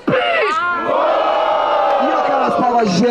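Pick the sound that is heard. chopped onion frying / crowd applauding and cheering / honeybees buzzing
crowd applauding and cheering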